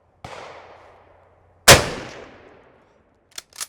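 Two sharp, loud gunshots from a Soviet M44 carbine rifle crack outdoors about a second and a half apart, each followed by a decaying echo, then faint metallic clicks.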